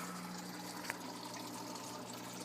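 Water and CO2 flow into an aquarium CO2 mix reactor, where they churn turbulently. The result is a steady, low, even rush of running liquid with a faint drip-like tick partway through.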